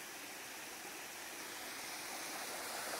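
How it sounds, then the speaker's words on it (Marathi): Forest river water flowing through a wildlife sanctuary, a steady hiss of rushing water close by, even and unbroken throughout with no voices. "पाणी ओझरत आहे"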